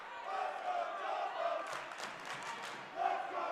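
A basketball crowd in the Cousins gym at an NCAA women's second-round game between DeSales and Tufts, with steady loud cheering and shouting that swells and dips over a few seconds, under a distant murmur.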